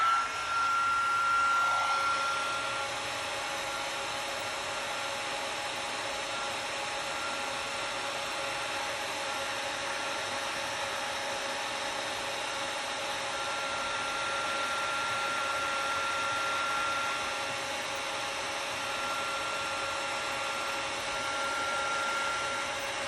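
A heat embossing tool blows hot air onto a card in a steady, even hiss and whir that holds unchanged for over twenty seconds.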